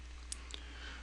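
Two quick, faint mouse clicks from a left button press on a computer, crisp and close against a quiet background hum.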